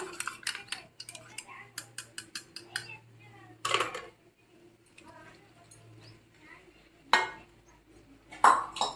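Yogurt being stirred into mutton pulao ingredients in a metal pot, with a spoon clattering and scraping against the sides in quick bursts, close and fairly loud.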